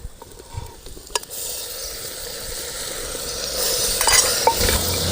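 Chopped tomatoes fry with garlic and cumin in a pan, a steady close sizzle with a few scraping stir strokes, getting slightly louder toward the end.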